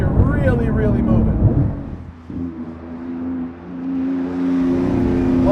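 Porsche 991 GT2 RS turbocharged engine pulling hard through the gears, a loud rising tone that drops at a gear change and climbs again, heard from inside the car with a voice speaking over it.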